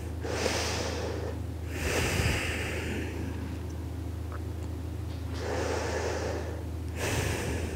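Slow, deep breaths drawn and released while holding a yoga pose, each long airy inhale or exhale lasting a couple of seconds, close and soft over a faint steady background hum.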